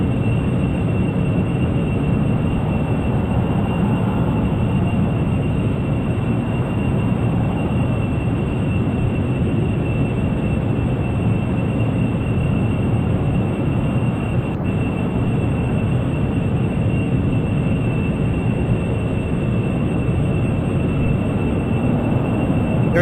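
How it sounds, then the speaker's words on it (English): A steady, loud roar of jet engines in a video game runs without a break, a dense low rumble with a thin high whine on top and no voices. "Still standing by on jet engine shutdown. They're still running."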